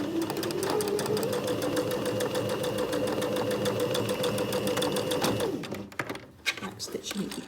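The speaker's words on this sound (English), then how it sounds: "now I am going to join the underarm seams of my sleeves" A sewing machine stitches the underarm seam of a sleeve in one continuous fast run that winds down near the end, followed by fabric handling noises.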